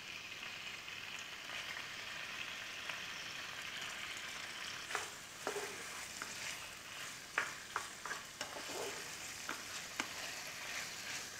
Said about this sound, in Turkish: Yüksek ateşte etleri kavuruyorum.